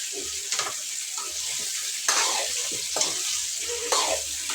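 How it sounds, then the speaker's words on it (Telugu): Cooking oil poured into a pan at home while making stuffed brinjal curry, heard as a steady close sizzle with soft stirring scrapes and a few brief clinks, no talk. "దీంట్లో అయితే కొంచెం నూనె వేసేస్తా"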